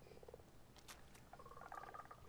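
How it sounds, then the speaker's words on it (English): A Minecraft frog croaks softly in short, rattling bursts, two separate calls a second apart, faint against quiet game ambience. "Okay, here's another frog."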